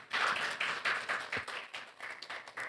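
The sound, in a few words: audience applause at a seminar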